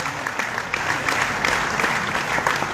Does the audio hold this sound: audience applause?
yes